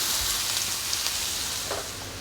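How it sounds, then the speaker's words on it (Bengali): Finely chopped onions fry in hot oil until browned, a close, steady sizzle with soft crackling and a brief stir near the end. "পেঁয়াজগুলো ভালো করে লাল করে ভেজে নেব।"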